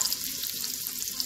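Meatballs browning in a pressure cooker pot give off a steady close sizzle and frying crackle throughout, with no talking.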